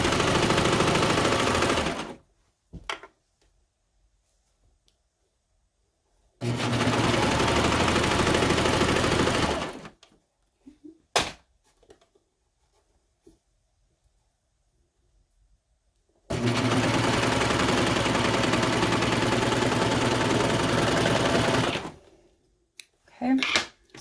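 A sewing machine runs in three long steady bursts of stitching as skirt pieces are joined, each burst loud and continuous, separated by quiet pauses with a few small clicks and handling sounds.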